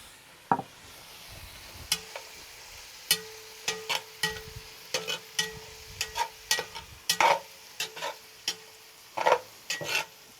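A utensil stirs mesquite seasoning into meat in a pan for tater tots, irregular scraping clinks and knocks repeating over a soft sizzle, close and moderately loud.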